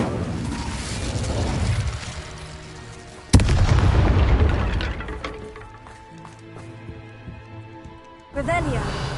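An Incendio fire spell cast in Hogwarts Legacy, a sudden loud whooshing blast with a roaring fiery tail that fades over a few seconds, then a second burst near the end, with a voice heard in the scene.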